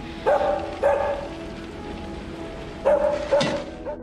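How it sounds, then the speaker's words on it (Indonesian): A dog barks twice, then twice more after a pause, mid-distance, over a soft background patter. "Hailey mendengar suara di bawah tanah dan gonggongan Sugar dari ruangan lain"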